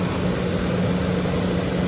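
A Ford F150 engine idles and warms up during a coolant flush, a steady, loud, close-up rumble with a constant low hum and no break or change across the short stretch.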